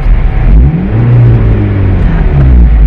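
A manual stick-shift car's engine revs loudly up close as the gas is pressed, a deep rumbling drone that rises and holds steady without speech.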